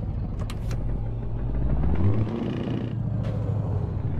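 A Scania S500 truck engine in a truck driving video game, a deep steady rumble that swells briefly as it revs, with a few clicks and knocks over the drone.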